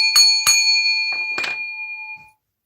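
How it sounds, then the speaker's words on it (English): Three bright bell strikes ring out close and clear, the first two in quick succession and a third after a pause, each tone sustaining with a long shimmering decay that fades within about two seconds, with no talking. "Here goes the bell, you guys."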